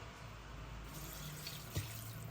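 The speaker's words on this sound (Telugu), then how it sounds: "తగినన్ని నీళ్ళు పోసుకుందాం" Water runs steadily from a tap into a cooking pot of pongal, a soft continuous stream with a brief splash near the end.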